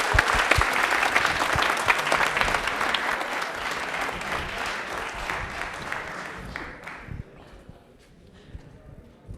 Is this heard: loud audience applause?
yes